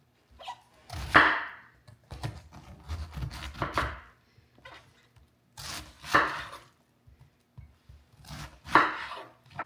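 A knife chops through cabbage on a board in big chunks, sharp irregular thuds and crunchy cuts arriving in short bursts with pauses between, close by and alone.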